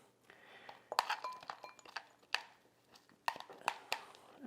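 A knife chops and clinks against a bowl while breaking up shortening for a gluten-free, dairy-free pie crust, in irregular bursts of close, sharp taps with short pauses between them.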